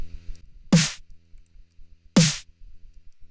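A processed snare drum from an Ableton drum mix struck twice, first with a generous OTT multiband compression effect and then without it, each hit a sharp, bright crack with a short tail, alone and spaced apart.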